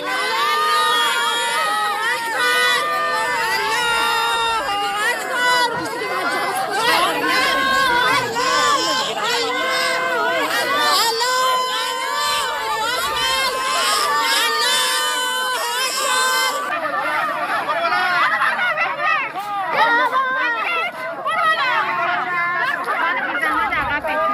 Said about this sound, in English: Now they're screaming because they're being arrested and being forced to they're being forced in a van.